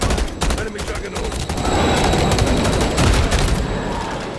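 Rapid video-game gunfire in Call of Duty Modern Warfare III during a fight with an enemy juggernaut, a loud dense fusillade of shots and bursts running continuously, with voices faintly underneath.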